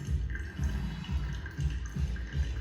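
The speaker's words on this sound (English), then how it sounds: "I'm going to add 80 more milliliters, but I'm going to pour them in an anti-clockwise direction" Water poured in a slow circular pattern over ground coffee in a pour-over brewer, a close, soft trickling splash that swells in gentle repeating pulses.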